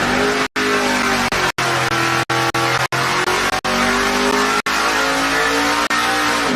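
A Pontiac race car engine on a dyno at a racing shop in Emporia, Kansas, revving loud and close with rising, sweeping pitch, the sustained roar broken by several abrupt brief dropouts.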